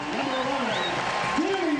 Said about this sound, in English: To a big round of applause